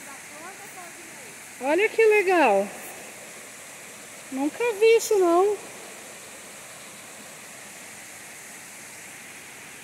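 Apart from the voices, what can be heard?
spring water flowing into a natural pool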